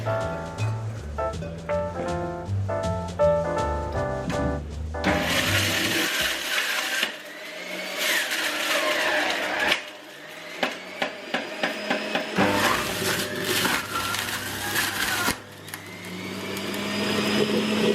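A juicer grinds through fruit in a ceramics studio, a loud whirring motor running in long stretches with short pauses and knocking between runs, while music plays at the start.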